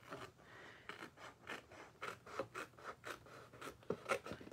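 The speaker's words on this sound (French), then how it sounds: "Et vous avez juste à couper" Scissors cutting through paper, a close, quiet run of about a dozen rhythmic snips and rustling slices with no voices.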